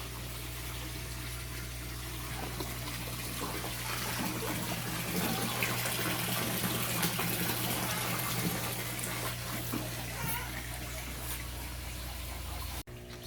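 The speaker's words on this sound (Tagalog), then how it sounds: "Ililipat lang natin tong ating pump para higupin naman yung nasa krillings natin na tubig." A water pump draws water out of a pond stocked with Australian red claw crayfish, giving a steady, continuous rushing and gurgling flow over a low motor hum that holds for the whole stretch before cutting off abruptly near the end.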